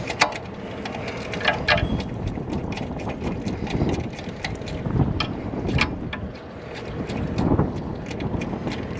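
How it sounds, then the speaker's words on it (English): Steady gusty wind roars and buffets the microphone outdoors beside a 2013 Ford F450 pickup with a 6.7 diesel under turbocharger repair, with faint clicks of tools mixed in. "it's nice and windy today too"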